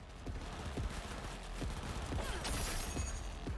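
Gunfire in the video game Cyberpunk 2077, heard as several sharp shots spaced through a dense, steady wash of in-game noise and rumble.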